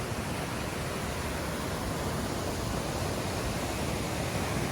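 A small waterfall called Little Niagara on a hiking trail gives a constant, even rush of falling water, broadband and unbroken, heard up close with no voices.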